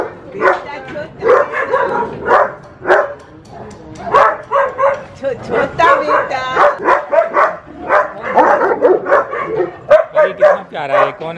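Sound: dogs barking

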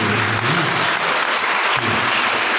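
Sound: audience applause at a quiz competition

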